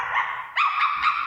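A person on stage in a student play imitates a dog with vocal yips and barks, two or three close, tonal bursts in quick succession and no other talk.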